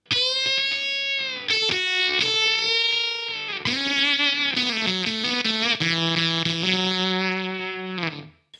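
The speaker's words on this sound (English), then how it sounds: "that pollen mode was kind of made for baritone. I think it needs a bit more fuzz." Guitar through a Beetronics Abelha Tropical Fuzz pedal set to pollen mode gives thick, saturated fuzz tones, moving from bright sustained notes into lower, chunkier sliding phrases before cutting off.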